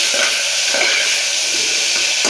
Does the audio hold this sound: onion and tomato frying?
yes